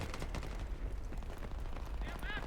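Gunfire rattles in rapid bursts through a Battlefield 3 battle, fairly distant and continuous amid rumbling explosions, with a voice talking faintly underneath.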